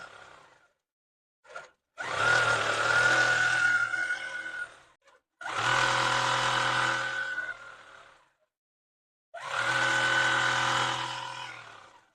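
Sewing machine running three long bursts of quilting stitches across a crumb quilt made from fabric scraps, a steady close whir in each burst with short quiet pauses between.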